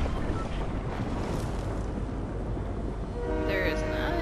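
Train rumbling past in Fortnite, a steady loud roar with wind-like noise and a horn-like tone rising near the end.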